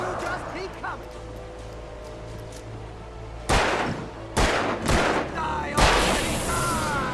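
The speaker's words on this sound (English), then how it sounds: "This man shot like 20 bullets." Gunshots in the video game Alan Wake, a few loud sharp bursts in the second half over a murky rumbling game background, with talk heard around them.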